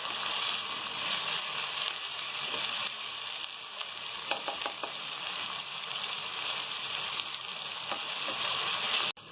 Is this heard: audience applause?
no